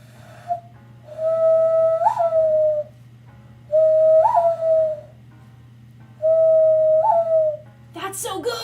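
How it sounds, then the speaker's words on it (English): Three long, high-pitched whistles blown through cupped hands, each lasting about a second with a slight rising warble, separated by short pauses, followed by a brief burst of voice at the end. "Cupped hand whistle."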